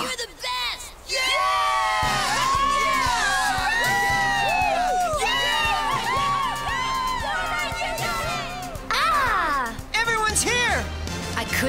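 A crowd of young spectators cheers, whoops and shouts encouragement at a Beyblade battle in an anime, loud and sustained, with excited voices rising over a steady hum of spinning tops and battle noise.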